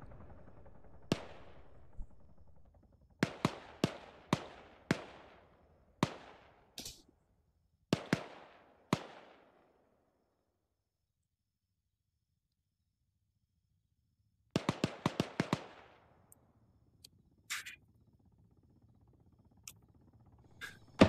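Gunfire in ARMA 3: sharp single shots and short rapid bursts crack out in irregular clusters, each with a reverberant tail, separated by long silent gaps and fading to faint distant pops.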